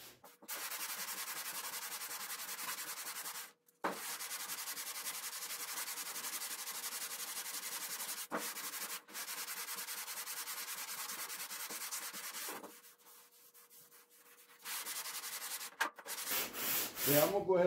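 80-grit sandpaper scrubs steadily across the steel bodywork of a square-body Chevy pickup, loud and continuous with a few brief pauses, then trailing into quieter scraping and handling noise near the end.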